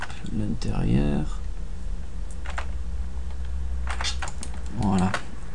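Computer keys click in short bursts on a desk, including the Enter key being pressed, close and fairly soft, while someone speaks between the presses.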